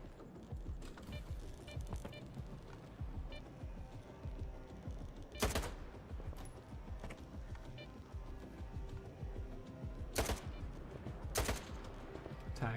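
Gunfire in the video game Stalker 2 rings out as a few sharp, loud shots spaced far apart over a busy, murmuring game backdrop.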